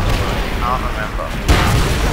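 A tank firing in Call of Duty: World at War lets out a heavy boom partway through, over a constant wash of loud battle noise.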